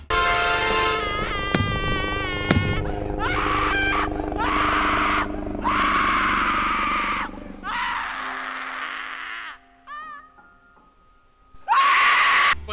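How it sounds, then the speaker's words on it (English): Shrill, warbling synthetic screams ring out from a Nintendo Switch food-themed video game as enemies die, several loud bursts separated by short pauses, alone without talk. "the scream when your enemies die"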